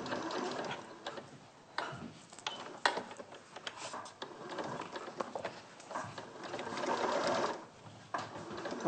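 A sewing machine quilting fabric runs in close, steady bursts of rapid needle clatter, pausing briefly a few times before starting again.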